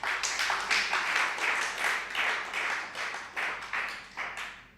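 An audience claps at a Tamil spiritual discourse in Kalyan Nagar, steady moderate applause from a hall crowd that swells and fades in uneven waves.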